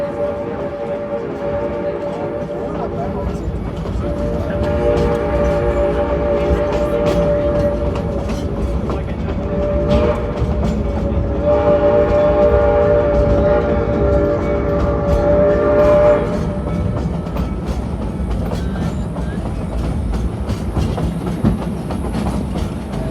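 A Georgetown Loop Railroad train whistle sounds a crossing signal in long, steady tonal blasts over the rumbling clatter of the moving train, with a short break between the blasts.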